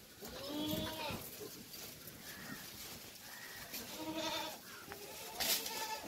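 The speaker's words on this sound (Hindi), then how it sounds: "ये हमारे फार्म की बकरी है" Jamunapari and Gulabi Hansa goats bleat on a farm, with several wavering cries spread across the clip at close to moderate range over steady wind noise.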